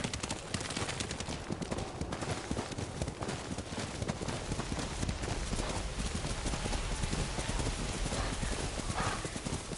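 Horse hooves clip-clopping in a steady rhythm while riding through snow in Ghost of Tsushima, loud and continuous over the game's dense ambient noise, with an occasional whinny.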